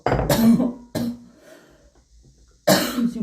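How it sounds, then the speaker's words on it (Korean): A woman coughs three times in short harsh bursts with pauses between, loud and close, as if her throat is dry. "지금 말하는데 기침 나요."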